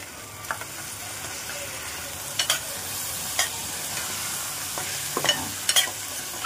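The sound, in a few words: washed dal and green peas added to pan and stirred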